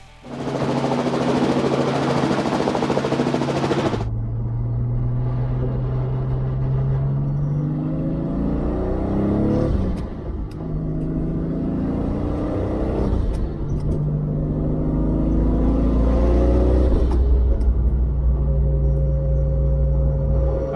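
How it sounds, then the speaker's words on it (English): A modified Nissan Skyline R32 with a half cage and S1 sequential shifter driving on a freeway, its engine droning loudly and steadily, rising in pitch through repeated gear pulls with brief dips between shifts. "It has the usual noises of an R32 with a half cage"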